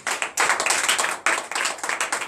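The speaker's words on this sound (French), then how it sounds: "Donnez l'acclamation à l'Éternel." A church congregation at a morning prayer service claps in acclamation, loud close rhythmic bursts of hand claps with a brief break partway through.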